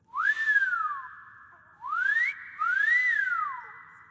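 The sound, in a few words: whistling in the video game Skyrim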